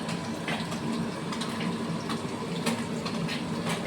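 Water pours steadily into a mix of onion, green chili and bay leaf being readied for a paste, a continuous close splashing trickle with no voices.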